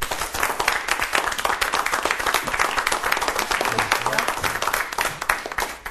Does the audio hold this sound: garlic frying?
no